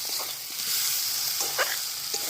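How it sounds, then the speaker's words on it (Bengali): Spice masala with turmeric and Kashmiri red chilli powder sautéing in a pan for potato curry, a soft steady sizzle with brief stirring scrapes, close and without talk. "পরিমাণ মতো হলুদ গুঁড়ো দিয়ে এটাকে আর খুব ভালো করে কষে নেব"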